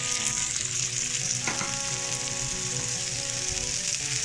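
Onions frying to light brown in a pan for a shahi egg korma, a dense continuous close sizzle with steady crackle and one brief scrape of stirring midway.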